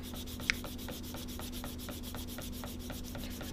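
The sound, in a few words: sanding prep work on a 1971 Hemi Cuda body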